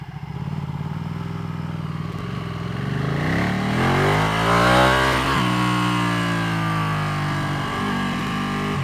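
A Ducati Panigale 1199R motorcycle rides through traffic, its engine droning loud and close throughout, rising steadily in pitch as it accelerates, then easing back to a steady drone.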